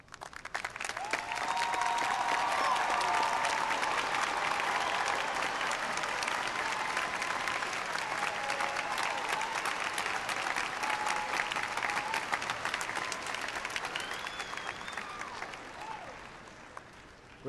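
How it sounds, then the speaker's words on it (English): A graduation crowd at UAH applauds mothers and fathers as they rise, a loud, sustained wash of clapping from a large hall that holds steady for many seconds before gradually thinning out. "we'll give them applause as they stand up"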